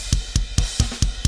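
A steady drum groove of deep kick thumps, each topped with a bright cymbal or hi-hat splash, six evenly spaced hits at a moderate tempo, loud and close with no voices.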